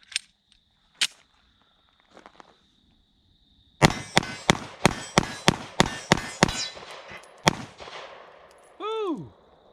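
A Glock 43 pistol fires 9mm rounds from a 10-round Promag magazine outdoors: a quick string of about ten sharp, loud shots in steady rhythm, with a few isolated cracks before and a falling whistle-like tone after.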